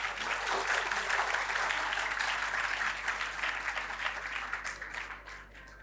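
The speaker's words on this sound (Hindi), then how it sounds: "सभी बच्चों के लिए एक बार हमें जोरदार और ताली बजानी चाहिए।" Audience at a school Independence Day celebration claps steadily for the children who anchored the event, a dense, sustained wash of applause that tapers off toward the end.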